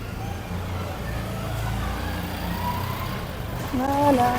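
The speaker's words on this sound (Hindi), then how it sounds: "अभी मिस्त्री बाहर खड़े हुए हैं तो बाइक स्टार्ट कर रहे हैं" A motorbike engine running and idling outdoors, a steady low rumble that swells slightly near the end, with people talking over it.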